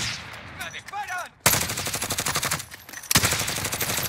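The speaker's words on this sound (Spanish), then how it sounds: "¡Me disparan!" Gunfire in the Call of Duty Warzone video game: loud, rapid bursts of shots break out suddenly after a brief quieter stretch and continue densely, surging again near the end, with a voice briefly heard.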